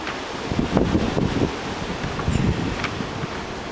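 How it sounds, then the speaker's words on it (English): Outdoor wind buffets the microphone in uneven gusts, rumbling and rustling for a few seconds with no one speaking. "A little bit windy today."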